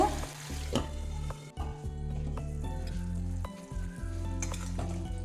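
A bitter gourd dish with poppy seed paste simmering in a pan, giving off a continuous sizzle and bubbling with occasional stirring clinks, no talk.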